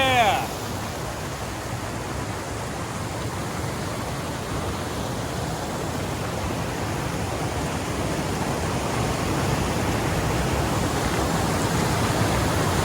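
The Hiwassee River in Southeast Tennessee rushes steadily past, a dense, even roar of flowing water that holds close and loud for the whole stretch, with a brief faint tone at the start.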